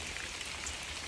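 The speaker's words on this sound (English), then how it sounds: "sopping wet, still raining, a little lightning occasionally" Steady rain pattering on the roof of a homemade camper during a wet morning storm in the Ouachita area, a continuous close hiss of drops with no voices.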